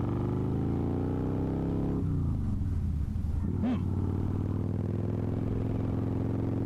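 Steady low rumble of a motorcycle engine, the Chopasaki, running while being ridden, with a pitch shift as it changes speed midway.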